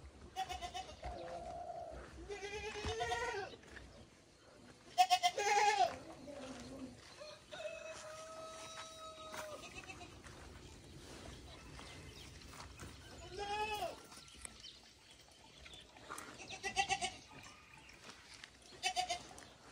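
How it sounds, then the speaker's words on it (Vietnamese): Goats bleat repeatedly at a rural Vietnamese homestead, wavering cries rising over a steady outdoor background, with a rooster-like call and some distant voices mixed in across the stretch. "Dê chưa thả anh Báo?"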